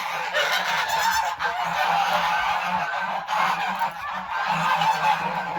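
A flock of geese honking loudly and continuously nearby, overlapping calls filling the whole stretch without pause.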